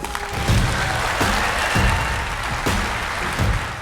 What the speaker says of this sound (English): Huge applause to Dr. Robert Malone.